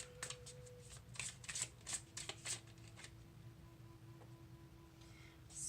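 Tarot cards riffled and shuffled in a rapid burst of crisp slaps, then quieter handling with the cards being drawn, close and fairly faint over a low steady hum.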